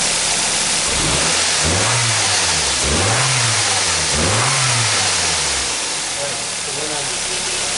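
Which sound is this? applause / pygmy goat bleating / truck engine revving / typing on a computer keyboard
truck engine revving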